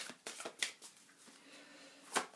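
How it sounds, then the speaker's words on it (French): Tarot cards are shuffled close by in several quick riffling bursts separated by short pauses. "je vais mélanger mes cartes pour faire le tirage"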